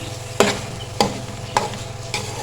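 Grated carrots roasting in ghee for carrot halwa, with four sharp, evenly spaced scraping strokes of a spoon against the pan over a low steady background hum.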